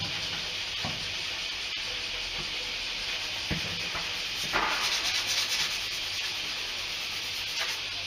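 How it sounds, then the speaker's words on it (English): A Dremel sanding bit grinds steadily against fiberglass clone trooper armor, producing a continuous close abrasive rasp with small bumps in intensity as the tool presses and shifts. "I've got the sanding bit on my Dremel, why don't I just use that?"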